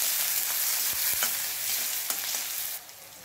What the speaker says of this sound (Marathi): शेंगदाणे, कांद्याची पात, कांदा छान परतून घ्यायचा आहे